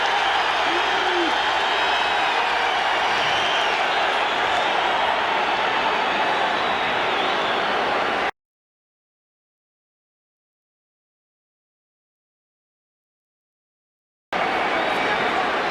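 A packed home crowd at a 1982 NFL game between the Minnesota Vikings and Detroit Lions roars loudly and continuously, a broad wash of stadium noise that cuts out for several seconds before resuming.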